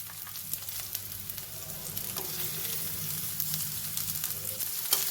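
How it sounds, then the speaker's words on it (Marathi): Thinly sliced onion fries in a pan for tomato peanut chutney, a continuous close sizzle with light scraping and stirring taps and a low background hum. "कांदा असा पातळ चिरून घालायचा म्हणजे तो लवकर परतला जातो"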